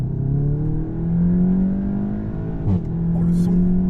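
Volkswagen Golf 7 GTI Clubsport, a 300-horsepower front-wheel-drive car, accelerating in sport mode: a steady moderately loud engine drone that climbs slightly in pitch, with a brief click near the end and people talking over it.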